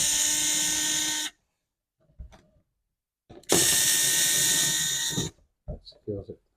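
Two long whirring bursts from a power screwdriver driving screws into the underside of a Salus thermostat case, close and loud, separated by a pause with small clicks and brief speech.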